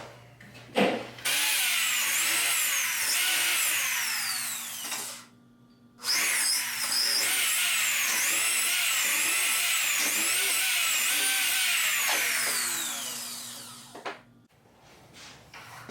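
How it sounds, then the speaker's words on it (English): A power drill whines steadily in two long bursts, drilling holes into a ski, pitch dipping and rising as it bites, with a brief pause between runs. "I'm going to go ahead and drill."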